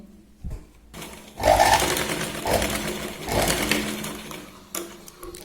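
Blouse fabric is stitched on a sewing machine, with bursts of close, rapid mechanical stitching that start after a quiet moment and carry on with small pauses and clicks.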